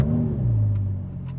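A 2014 Audi R8 engine settles from a rising rev into a deep, steady idle, close and loud, the pitch sliding down as the start-up flare fades, with no talking.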